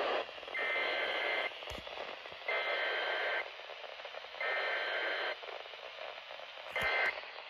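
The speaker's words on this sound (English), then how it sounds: "I actually uploaded some valid tones straight from my Sage over there to my iPod" Weather alert tones from an iPod come through a weather radio receiver as four loud, even bursts of buzzy data tone with short gaps of static between them, plus a couple of clicks.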